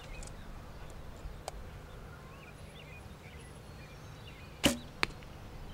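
An arrow loosed from a bow strikes a target with a sharp single thwack near the end, followed by a smaller tick, against a quiet outdoor background with faint bird chirps.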